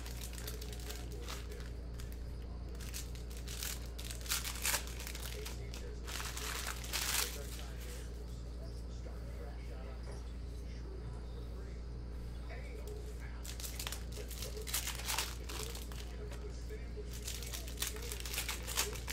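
Packaging on a Panini Mosaic basketball trading card box is ripped and crinkled in several bursts of tearing and crumpling, up close and fairly crisp, while a person talks intermittently.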